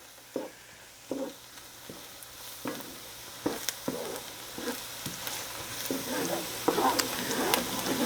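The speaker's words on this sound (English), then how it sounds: "When you cook a dish like this, you have to tend to it by stirring constantly" Flour roux for a creamy pot pie orzo is stirred in a pot with repeated scraping strokes over a soft sizzle, the strokes growing busier and louder toward the end, with no voices.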